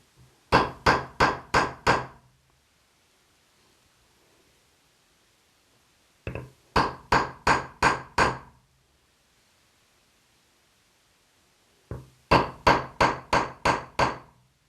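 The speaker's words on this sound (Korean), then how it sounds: "나무 망치를 사용하셔서 반드시 대리석판 위에서 하셔야 됩니다." A wooden mallet strikes a leather stamping tool held on leather over a marble slab, in three bursts of about five quick, sharp, close knocks each, with quiet pauses between them.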